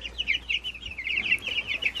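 Hens, olive egg layers and Black Copper Marans, cluck in quick, continuous murmuring bursts, close by and moderately loud, with no voices over them.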